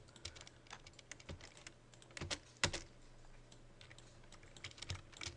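Quiet typing on a computer keyboard while working in Rhino 3D modeling software. Soft, close keystrokes come in scattered clusters, with one sharper clack near the middle. Nobody speaks.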